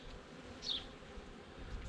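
Honeybees buzz softly around a hand during a hive inspection, a faint, continuous hum with a brief swell near the middle.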